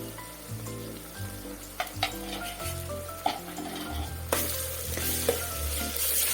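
Ginger paste frying in a pan for mutton curry, a steady sizzle with repeated scraping stirs and light clinks of a spoon on the pan, the frying surging louder toward the end.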